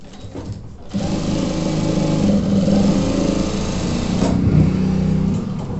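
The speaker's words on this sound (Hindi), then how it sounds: "इसके ऊपर लपका सिलाई एक लगा देंगे।" A sewing machine stitches piping folded from bias-cut cloth onto a pant side pocket, running as a loud, steady motorized whir close by after a brief start, with the pitch wavering slightly as the speed shifts.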